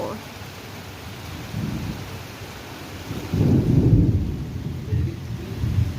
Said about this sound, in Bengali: ওরে বৃষ্টি দেখো